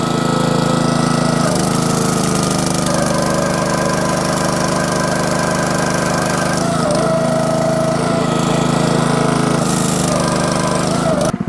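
A gas-engine log splitter runs loudly and steadily up close at part throttle while splitting wood, with the engine drone changing slightly in pitch as it takes load, and no pauses.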